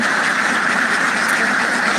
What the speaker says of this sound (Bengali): এই যে দেখতে পাচ্ছেন হাঁসগুলো কত সুন্দরভাবে খাচ্ছে